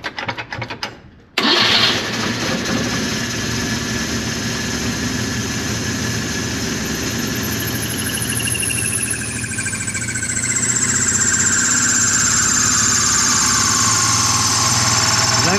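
A Moskvich car engine cranks briefly, catches at once and settles into a steady, loud idle that holds to the end, with no talking.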